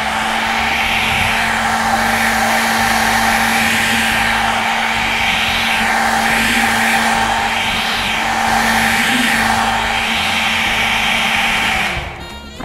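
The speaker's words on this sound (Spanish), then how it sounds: "aquí vamos a trabajar hacia abajo lo que es el secador. Aquí le vamos a ir dando un poquito de secado." A hair dryer blows hot air to dry fresh paint, a loud, steady whirring roar held close throughout that cuts off abruptly near the end.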